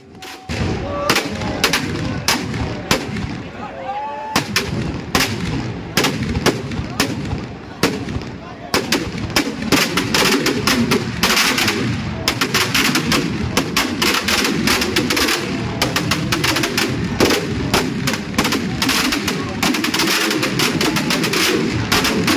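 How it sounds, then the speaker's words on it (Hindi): Large firework bombs burst during a temple fireworks festival in Vrindavan, with dense rapid-fire cracks and booms layered over a crowd, loud and continuous with almost no pauses. "और अब ये चालू हो जाती हैं यहाँ पर बड़ी बम्बें और ये बहुत ही भयंकर आवाज़ करती हैं।"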